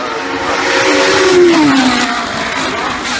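Jeremy Smith's six-wheel March race car with four driven rear wheels passes at a hill climb event, a loud engine note rising then falling in pitch as it sweeps by close, over a broad outdoor roar.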